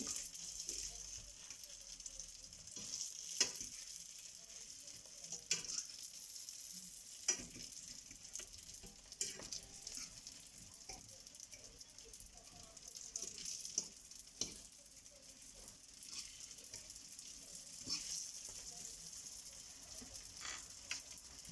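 Brick pastry filled with kefta and cheese fries in a pan with a steady, soft sizzle and scattered crackling pops throughout, no voices over it.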